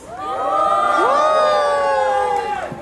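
An audience at a television show launch press conference erupts in loud cheering and whooping, high excited voices rising and sliding together in a sustained swell before fading.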